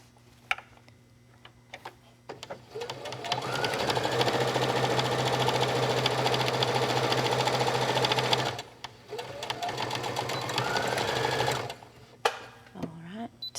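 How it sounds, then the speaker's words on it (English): A home sewing machine runs in two steady bursts, stitching a dividing line down the middle of a fabric pocket, whirring at an even close-up hum with short pauses and faint clicks between runs. "I've got a light marking down the middle of this pocket that I will stitch to divide the pocket into 2 parts"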